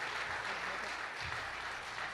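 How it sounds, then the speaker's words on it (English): A crowd at a veterans' evening event applauds as a continuous, diffuse wash of clapping, heard from a distance and fairly faint throughout. "Give a round of applause for our performance here today."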